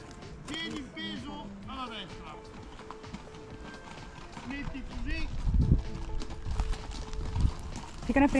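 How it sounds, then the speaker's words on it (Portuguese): Horses trotting at a riding stable near Tuscan beaches, hooves clip-clopping in a steady rhythm close by, with people chatting over them throughout. "Dá pra fazer passeio de cavalo"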